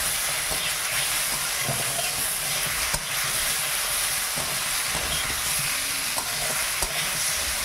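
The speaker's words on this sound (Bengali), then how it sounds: "টমেটো মূলাটা আমি ভালো করে ভেজে নিয়েছি, এবার ওল সিদ্ধটা দিয়ে দিলাম" Boiled yam fries with tomato and radish in a pan for a sour village-style dish, a dense, loud hiss of sizzling oil with faint stirring scrapes underneath, no speech.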